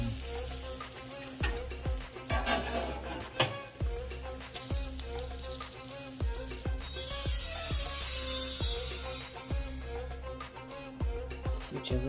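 Sliced green tomatoes fry in a pan for Southern fried green tomatoes, a steady close sizzle scattered with small pops and crackles, swelling in the middle, with no voices.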